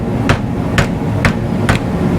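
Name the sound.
pushing a bushing out on a 1980 Datsun 280ZX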